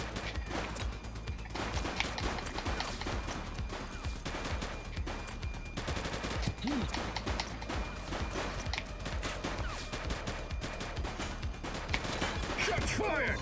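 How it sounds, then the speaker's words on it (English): Gunfire in a police shootout in the video game The Precinct, with steady rapid shots and crashing impacts running throughout at moderate volume, while voices call out over the fighting. "Shots fired!"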